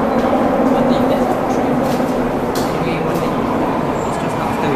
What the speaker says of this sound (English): what we just want to show you is this is the subway